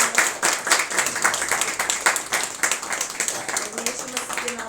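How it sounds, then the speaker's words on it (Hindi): A church congregation claps to welcome newcomers, a lively burst of many hands applauding with irregular rhythm, steady through the moment and gradually softening, with voices mixed in. "कलीसिया ताली बजाकर उनका स्वागत करती है।"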